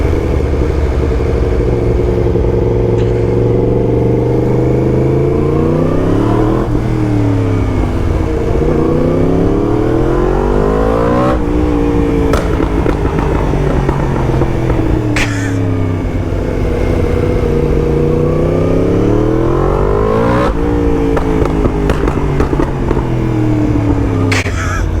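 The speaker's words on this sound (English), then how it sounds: "It's popping and banging because," A Yamaha MT10 motorcycle with a loud Akrapovic exhaust roars continuously up close, its engine note rising and falling through repeated gear changes, with sharp pops and bangs on the overrun.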